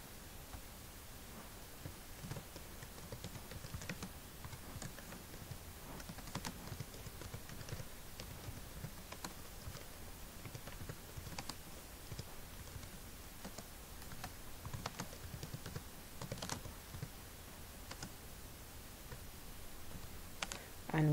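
Soft, rapid keystrokes on a computer keyboard while Pascal code is entered, a steady stream of quiet clicks with small pauses, heard close and alone at low volume.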